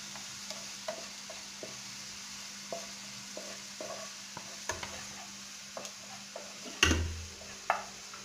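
Onions frying to golden brown in a pan, a soft low sizzle with occasional light stirring taps and one louder clatter near the end, close but quiet.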